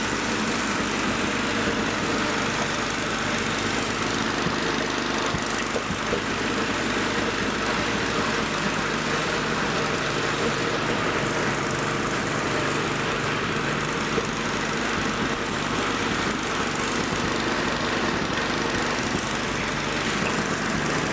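A Toro 521 snowblower engine with a new drive belt runs steadily and loudly after a pull start, a constant buzzing small-engine roar with a slight stutter in it and no voices.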